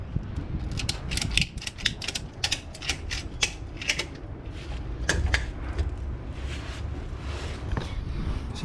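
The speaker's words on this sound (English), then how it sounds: "take the ratchet strap" Ratchet strap being worked during a rear lift spacer install on an SX vehicle, hooked to the lower control arm: a steady run of close, sharp mechanical clicks and clacks over a low background rumble.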